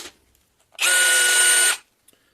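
An Einhell TE-CD 18/40 Li BL cordless drill spins up for about a second of steady, loud whirring at close range, then stops, with no talk over it.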